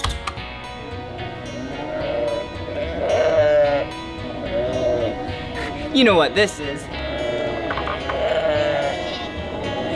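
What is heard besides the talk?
sheep bleating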